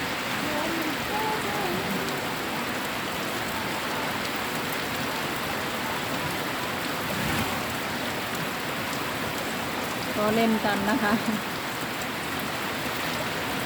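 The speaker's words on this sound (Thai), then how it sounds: "มีฝนแต่ว่าไม่มีฟ้านะคะ ฟ้าไม่แรงนะคะ" Steady rain falls without thunder, a dense even hiss on the surfaces around, continuing throughout, with someone speaking softly and briefly over it.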